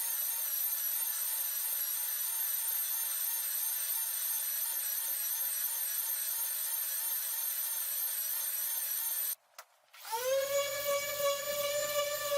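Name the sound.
power sanding a long leaf pine slab at 80 grit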